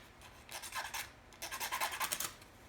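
A match dragged against the worn striker strip on a matchbox, heard as two short bursts of dry, rasping scrapes, the second longer and more rhythmic, fairly close and fairly faint, with no voice.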